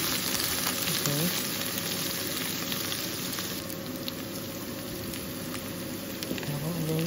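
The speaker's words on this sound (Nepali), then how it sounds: "यसरी पकाउँदै चलाउँदै छोप्दै गरेर मजाले पाक्छ" Bitter gourd curry frying in oil as it is stirred, a continuous crackling sizzle with light scraping stirs, steady and close throughout.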